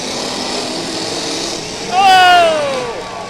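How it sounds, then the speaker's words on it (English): Race car engines rev and whine at a crash event at the Erie County Fair in Sandusky, Ohio, with a rising then falling high-pitched motor sweep near the end over steady crowd and track noise. "Listen to those motors sing."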